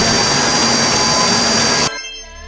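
A drill machine bores into the ground in a cartoon, a loud, steady mechanical whine and roar that cuts off abruptly near the end, leaving only faint residual noise.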